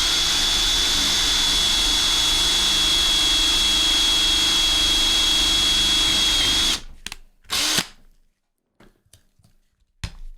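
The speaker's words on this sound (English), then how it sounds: "we drilled quite a bit, probably halfway into our silver" A drill bores into a 5 oz silver bar with a loud, steady whine and a thin high tone for about seven seconds, then cuts off into a few short bursts and near silence.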